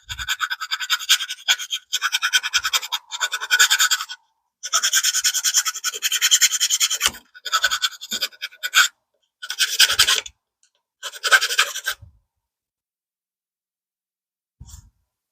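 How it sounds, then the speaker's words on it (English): A Dremel rotary tool grinds the rough edges of a part on a Rlaarlo JK-07 Pro RC car in repeated short rasping bursts of one to two seconds, separated by brief silences, fairly quiet and close, with no talking. "Take away some of these aggressive edges where I got a little bit loose with the"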